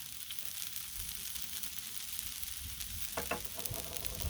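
Beef stir fry sizzles on a Blackstone griddle, a soft, continuous crackling hiss with a few sharper pops and spatula scrapes near the end.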